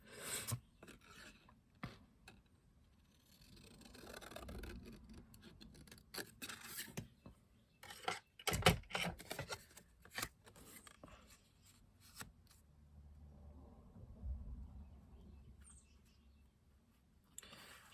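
Paper being cut in half for a flip flap folio, heard up close as quiet, intermittent rasping and scraping strokes with soft rustles and handling noises, no talking.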